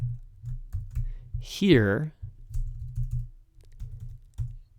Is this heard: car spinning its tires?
no